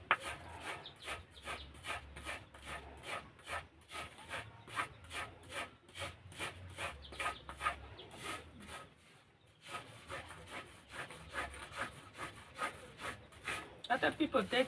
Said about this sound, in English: Now I'm going to grind the yeast.